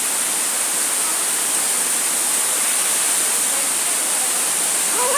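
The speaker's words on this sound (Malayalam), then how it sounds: "അതിമനോഹരമായ വെള്ളച്ചാട്ടം" A waterfall near Bhagamandala town roars as a loud, even, unbroken rush of water, close and unchanging throughout with no other sounds.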